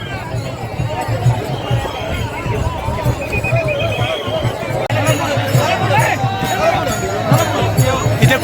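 A large crowd of pilgrims at the Nivruttinath Maharaj palkhi, giving a dense, steady murmur of many voices close by, with a nearby voice talking over it.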